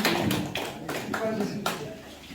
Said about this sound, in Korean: 여기에 참석하신 박수를 주세요.